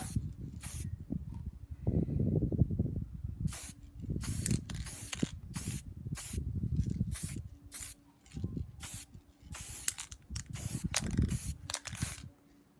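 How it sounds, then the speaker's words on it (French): Aerosol spray paint can hissing in repeated short bursts over the metal parts of a wargame terrain table, with low rattling and handling clatter between sprays, fairly close. "ma bombe sur toutes les parties métalliques de la plaque et il y en a pas mal"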